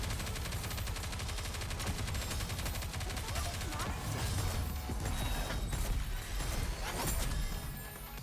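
Dense, continuous gunfire and bursts fill a battle in the game Goddess of Victory, layered with crashes, game music and character voices speaking over the shooting.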